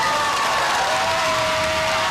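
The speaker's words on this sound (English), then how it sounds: "It was 12:16 a.m. and the crowd erupted in celebration." A crowd inside a city council chamber bursts into applause and cheering to celebrate a wedding just after midnight, a dense, even wash of clapping heard up close for a couple of seconds.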